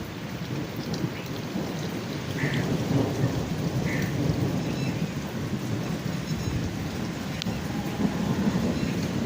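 Heavy rain and strong storm wind pour down over a village, a steady, dense roar with thunder rumbling low beneath it, loud and continuous throughout, with no voices.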